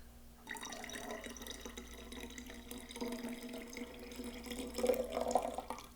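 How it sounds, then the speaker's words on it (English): Green tea pours from a vessel into cucumber mint wine must, a steady trickling splash that runs throughout, brightening into louder gurgles near the end. "I'm going to pour in our precious green tea into our must here."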